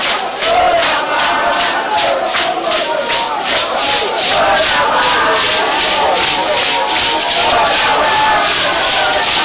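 A large, energetic crowd of supporters at a political campaign rally in Edo State for Barrister Omosede Igbinedion chants in loud, rhythmic unison, with steady pulsing shouts repeating about three times a second throughout.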